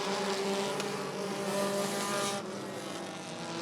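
Bracket race cars roar together at the green-flag restart at Rockford Speedway, a dense, loud wash of engine noise from the pack accelerating, with no voices over it.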